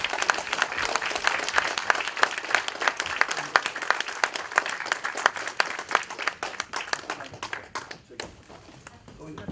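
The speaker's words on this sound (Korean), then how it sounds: "자, 감사장을 드릴 때 박수로 환영해 주십시오." Applause from an audience at a political talk concert during a certificate-of-appreciation presentation, with sharp rhythmic clapping that settles into a steady beat and then thins out near the end, close and lively.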